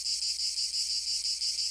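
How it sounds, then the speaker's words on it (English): Cicadas hiss steadily on a summer night, a dense continuous high-pitched drone with a faint pulsing rhythm, loud and unbroken with no other sounds. "no sounds, except for the cicadas hissing in the summer night."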